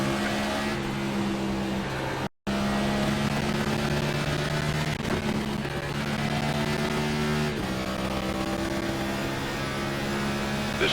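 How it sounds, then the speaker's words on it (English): Race car engine in an iRacing NASCAR sim race at Watkins Glen, droning loudly and steadily with a slightly odd, wavering tone, a brief dropout near the start and no talking. "Getting that weird engine noise that Chase had last week."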